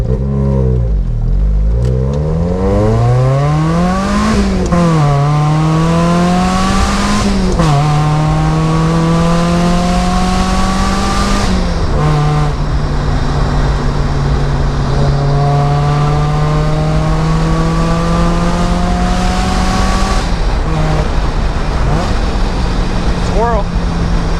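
A Rotrex-supercharged Mazda Miata engine revs hard and climbs through the gears, loud and close, with rising pitch sweeps and shifts as it accelerates continuously down a road.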